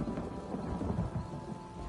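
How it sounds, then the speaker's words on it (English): Rain and a thunderstorm in The Elder Scrolls Online: steady rainfall hisses beneath low rolling rumbles of thunder, moderately quiet and continuous, with no voices. "I could do without this damnable rain. It's been storming since we arrived"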